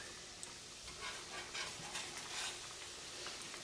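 Italian Christmas cookie dough fries in olive oil, a steady close sizzle and crackle with faint stirring, continuous throughout.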